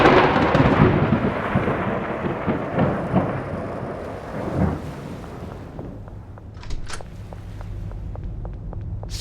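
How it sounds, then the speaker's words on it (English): Thunder rolls from a passing storm after the rain has stopped, a long, deep rumble that swells and fades over several seconds and then gives way to quieter, scattered ticking and faint background noise. "And it's still thundering"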